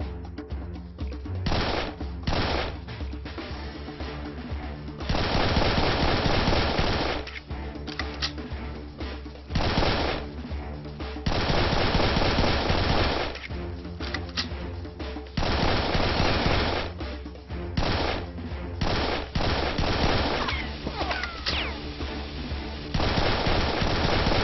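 Heavy automatic gunfire from enemies in the first-person shooter Serious Sam 3: BFE, loud sustained bursts of rapid shots alternating with short gaps and scattered single blasts, dense and close.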